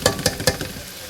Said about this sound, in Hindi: अब ये जब तक टमाटर थोड़ा मिक्स होगा अंदर तब तक इसको भूनेंगे हम अच्छी तरह।